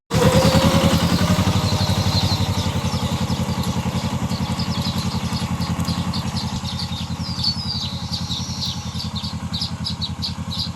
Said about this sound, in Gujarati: મિત્રો જો અત્યારે ટ્રેક્ટર આવી ગયું છે